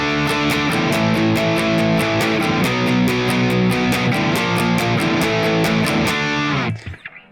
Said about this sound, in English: we have a rhythm guitar that's just playing power chords